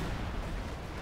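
A dense, roaring boom of assault artillery fire from the strategy game Company of Heroes 2, a single brief, loud blast filling the moment with heavy low rumble.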